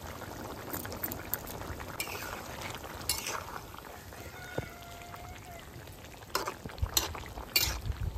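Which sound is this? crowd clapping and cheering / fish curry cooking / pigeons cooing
fish curry cooking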